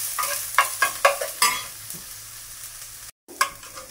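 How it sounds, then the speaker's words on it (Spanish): Finely minced onion and garlic are stirred while frying in a pan for a mushroom soup, with a run of close scraping strokes over a steady sizzle before it settles into quieter frying, no voices. "sazonar nuestra cebolla con el ajo, los cuales ya están finamente picaditos. Y le movemos a que se sazone bien."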